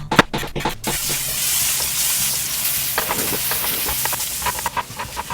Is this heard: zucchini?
yes